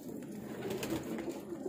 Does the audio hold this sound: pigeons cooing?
yes